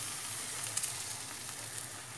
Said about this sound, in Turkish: Şimdi dibine biraz sıvı yağ ve krepimi döküyorum